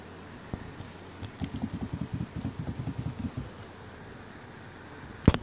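Fingers typing on a computer keyboard, a run of quick, light, uneven clicks for about two seconds, fairly close, followed by a sharp single knock at the end; no talk.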